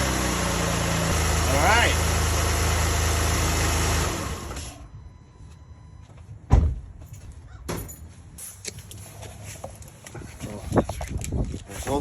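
A Honda Odyssey minivan engine, just repaired with a new belt tensioner, runs loudly and steadily for a few seconds before quieter clicks and knocks of work around the car, with a brief spoken word.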